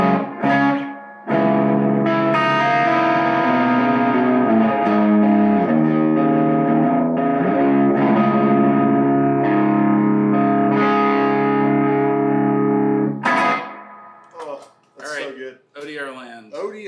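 An electric guitar played through a Keeley Nobel Screamer distortion pedal rings out in loud, sustained distorted chords with a smooth, thick tone, then breaks off into a few short bursts of talking at the end.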